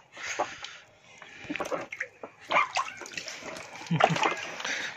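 Water splashes and sloshes irregularly as a one-month-old baby boy is bathed for the first time, with close soft splashes and rustling mixed with bursts of nearby talk.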